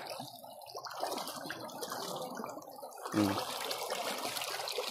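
Strong floodwater rushing around bamboo rafts used as a rainy-season crossing in the Philippines, a steady moderate flowing and trickling wash with a brief louder splash partway through.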